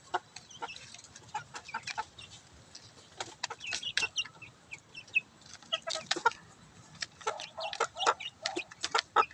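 Chickens being fed cluck and peck in a busy, irregular stream of short calls, moderately close but fairly quiet, with no talking.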